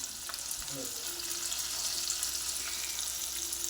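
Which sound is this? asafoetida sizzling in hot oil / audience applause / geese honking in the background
asafoetida sizzling in hot oil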